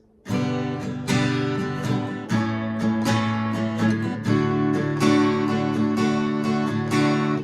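An acoustic guitar strums the chorus chords of a song in a lively rhythm with accented upstrokes, bright ringing chords changing every second or so, close and clear with no voices.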